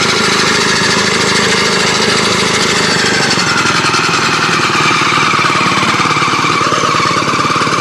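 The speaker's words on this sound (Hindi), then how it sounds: "इस रस्सी के माध्यम से जो कि इस ट्रैक्टर को स्टार्ट किया जा सकता है। ये देख पा रहे होंगे आप लोग, ये देखिए ये ट्रैक्टर स्टार्ट हो गया है।" A small homemade tractor engine in Bathinda, started by pulling a rope, runs with a loud, steady, rapid clattering close by, with no voices over it.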